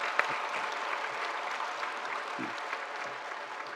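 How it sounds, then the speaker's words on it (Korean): Applause from a church congregation at an Easter Sunday service, a steady wash of clapping throughout, moderately distant and fairly quiet, with no voices over it. "연합찬양대와 우리 유대한 집사님께 감사의 박수 한번"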